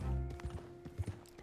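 A horse trots on auto ride in the video game Red Dead Redemption 2 on Xbox One, with soft, irregular hoof clip-clops over a low hum and music, fairly faint.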